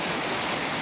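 A stream flows under a small footbridge, heard from the bridge as a loud, steady rush of water. The sound is continuous and close, with no voices.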